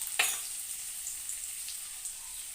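Garlic and curry leaves dropped into hot tempering oil for a bitter gourd gojju, giving a sharp initial crackle followed by a steady, close high sizzle with faint pops.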